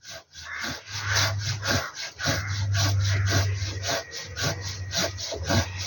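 A handsaw cuts a tree near the root, a close, steady back-and-forth rasp of strokes through wood with brief pauses.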